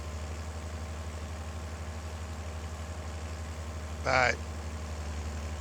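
A tractor engine idles in Farming Simulator 22, a steady low throbbing hum throughout, with a brief spoken word breaking in near the end.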